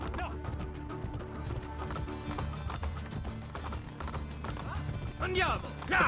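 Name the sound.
horse galloping hooves in video game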